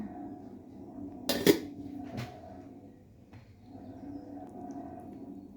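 Rice served onto a plate among dishes and cutlery at a home lunch: a sharp clatter of a utensil against crockery, then softer scraping and a light clink, close by over quiet background.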